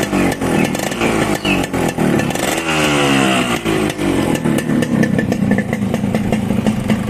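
Yamaha RX-S motorcycle, an old two-stroke with original exhaust, running steadily near the listener with a rough, buzzing engine note that rises briefly as the throttle is blipped, then settles back into a busy idle.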